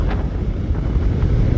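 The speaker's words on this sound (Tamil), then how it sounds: "அந்தளவுக்கு காற்று கொடூரமாக அடிக்குது." Strong gusty wind blows during a motorbike ride in Madurai. It comes as loud, constant low buffeting and roar, close and unbroken, with no voices.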